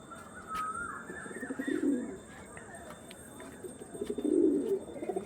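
Two low, throaty bursts of cooing from Andhra tournament flying pigeons, close by, with light chirps and faint background noise between them.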